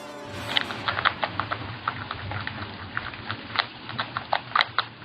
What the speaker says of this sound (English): a groundhog pops up with what appears to be a cucumber in its paws, rapidly chewing